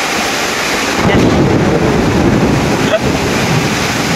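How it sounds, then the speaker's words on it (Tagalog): A heavy rumble of thunder rolls through along with loud rain and wind noise on the microphone, the roar swelling after the first second. "Lakas ang kulog."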